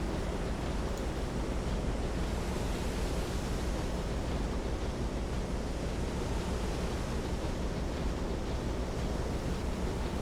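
Stormy ocean waves in the Silent Hunter 3 submarine game, a steady, loud broadband roar of surf and wind that stays constant and alone for the whole stretch.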